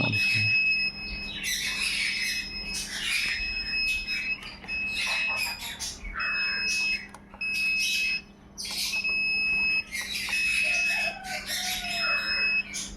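A repeating high-pitched electronic alarm from an egg incubator controller beeps in regular bursts, with rooster crowing and bird squawks loud in the background.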